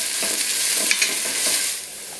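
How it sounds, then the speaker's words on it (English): Shallots sautéing in oil in a pan: a continuous close sizzle with soft scraping pulses from stirring, moderately loud and steady with no talking. "we're going to saute the shallots for about 2 minutes until they are translucent"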